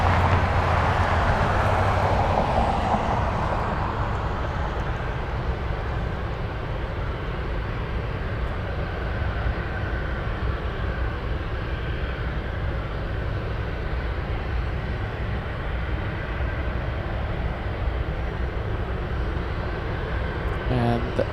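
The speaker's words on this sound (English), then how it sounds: "we have another UPS coming in. UPS 77 flying in from Shenzhen" UPS cargo plane flying in from Shenzhen to land at Anchorage airport, a broad, continuous jet engine roar that swells early and then holds as a sustained rumble throughout.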